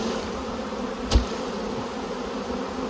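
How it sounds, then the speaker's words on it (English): Honey bees hum steadily around beehives being moved, a close, constant buzzing drone. A single sharp knock or bump lands about a second in. No one speaks. "Just want to bump all these bees off down at what was the entrance here."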